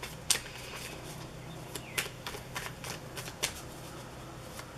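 A deck of tarot cards being shuffled close by, with soft, quick riffles and sharp card snaps in short bursts against a quiet room.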